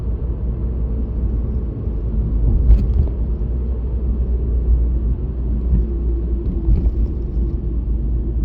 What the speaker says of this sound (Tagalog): Narinig niyo po yon yung sasakyan ko.